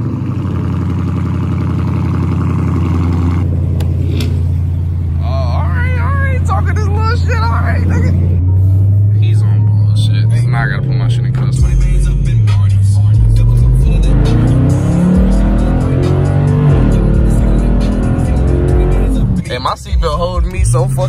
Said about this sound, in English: Ahead and get y'all this cold start.